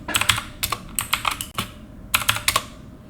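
Quick bursts of keystrokes on a computer keyboard as a command is typed, close and crisp clicks in three clusters with brief pauses, no speech.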